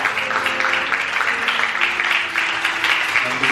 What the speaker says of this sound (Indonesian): Boleh kasih tepuk tangan dulu buat pelayan-pelayan yang luar biasa